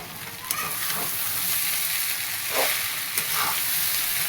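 Onion poha sautéed and stirred in a pan, giving a steady close sizzle broken by a few soft scraping stirs and light clinks, with no talk.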